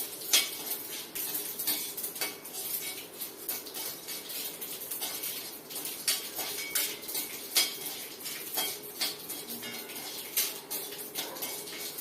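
Chana dal dry-roasting in a pan, stirred with a utensil that taps and scrapes the metal in quick irregular strokes over a soft rattling of dry lentils, fairly close and steady throughout.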